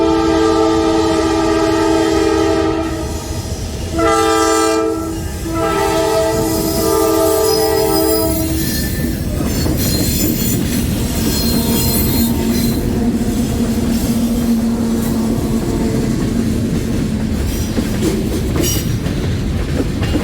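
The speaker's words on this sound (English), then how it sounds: "the train is rolling quickly downhill with the EMDs in dynamic braking" EMD diesel locomotives of the Maryland Midland Railway in dynamic braking as a train rolls quickly downhill on Lantz Curve. A loud horn blast opens, then a steady roar of braking engines, with wheel squeal and rolling rail noise continuing throughout.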